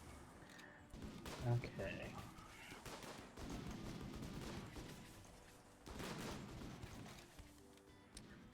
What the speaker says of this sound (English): It looks like we are shooting at the turrets.